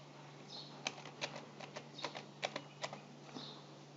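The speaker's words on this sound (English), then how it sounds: "Say I'm typing this just for the reference" A password is typed on a computer keyboard, with about a dozen light, irregular key clicks heard faintly and up close in a quiet room.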